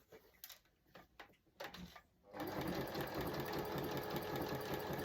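A sewing machine stretch-stitches a phone pocket onto wetsuit trousers: a few short stop-start bursts, then a steady, fast, close mechanical whirr with rapid needle ticking to the end.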